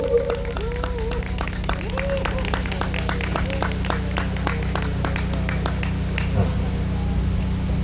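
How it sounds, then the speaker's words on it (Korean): Crowd applause at a youth candlelight rally in Gwanghwamun, Seoul, rises as a dense, steady patter of clapping hands over a low loudspeaker hum, with faint voices and scattered cheers mixed in throughout. "여러분 박수로 맞이해 주십시오"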